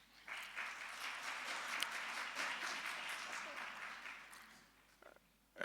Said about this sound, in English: May I request that there be no clapping of hands, please?